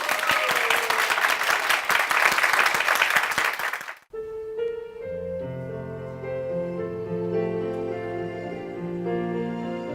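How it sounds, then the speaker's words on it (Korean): A church congregation claps loudly and steadily for several seconds, then the applause cuts off as piano and gentle instrumental music begin. "큰 박수 부탁드리겠습니다"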